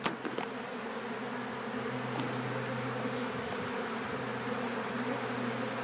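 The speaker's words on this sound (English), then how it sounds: "It's a lot of bees." A dense swarm of honeybees buzzes steadily around a removal box set up during a floor-joist hive removal, a continuous close droning hum with no talking.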